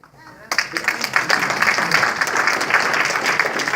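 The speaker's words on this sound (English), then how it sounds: "Don't clap too soon" Dense, loud audience applause at a political campaign kickoff, breaking out suddenly after a quiet moment and holding steady as a wash of clapping.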